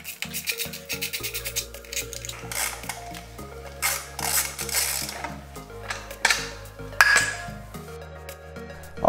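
Metallic clicks, ratcheting and scraping come from T30 screws being removed from the rear mud guard of a BMW 1200GS/1250GS motorcycle, an irregular close-up series of tool clatter and rubbing.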